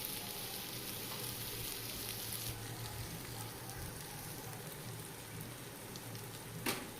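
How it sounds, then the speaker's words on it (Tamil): Onions for a chicken curry sauté in a pan, giving a faint, even, continuous sizzle with a brief louder crackle near the end and no voices. "இப்போ இந்த வெங்காயம் நல்லா வதங்கிடுச்சு"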